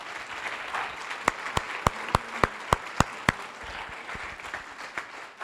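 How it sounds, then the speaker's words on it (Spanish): Church congregation applauds during a Sunday service, a soft wash of clapping with one nearby person's loud, evenly spaced claps punctuating the middle before fading out. "Fuerte el aplauso para Dios."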